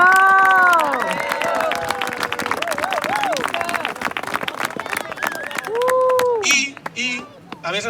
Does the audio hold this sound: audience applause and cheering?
yes